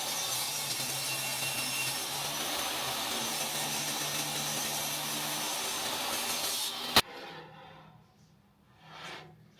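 A power saw rips through wood for a quick woodworking gift build, a loud, continuous rasping whine lasting about seven seconds before it stops with a sharp click, followed by near quiet.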